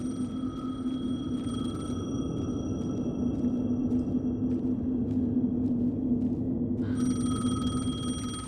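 A telephone rings in the video game Alan Wake 2, a bright repeating electronic tone over a low, steady droning rumble, fading out midway before sounding again near the end.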